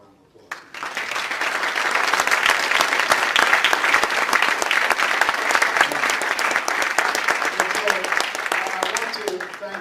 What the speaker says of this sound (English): Let's give Mel another round of applause.